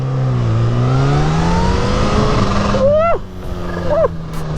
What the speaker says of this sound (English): y'all hear that flutter? Oh my god, the noises that freaking come from this bike are absolutely insane.